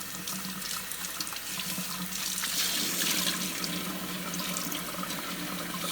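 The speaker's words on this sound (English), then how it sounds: "So I am just going to fill the sink with some warm water." Warm water running from a tap into a sink as it fills, a steady, even hiss of flowing water with a faint rising tone, fairly quiet and with no talking.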